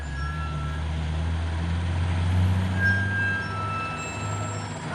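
A heavy dump truck labours uphill on the Bukit Godok climb while towing another truck, its engine a continuous deep low drone with some brief high tonal squeals over it, steady and fairly close.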